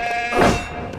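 A goat bleats in the LEGO The Hobbit video game, a single wavering, nasal call over a steady background drone, fairly close and clear with no talking.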